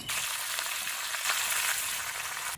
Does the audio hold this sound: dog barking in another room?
no